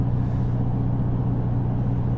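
A modified 12-valve VW VR6 engine in a Mk2 GTI with cams and short gear ratios drones steadily from inside the cabin, a constant low rumble with no talking.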